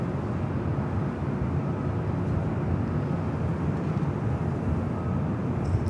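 A Boeing 747 airliner taxis toward the gates at LAX, its steady jet-engine rumble sustained and even throughout, with no talk over it.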